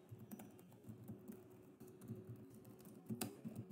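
Quick, light clicks on a computer keyboard as an instruction is typed, a close, soft, irregular patter of keystrokes with a few sharper taps near the end, quiet and with no talking.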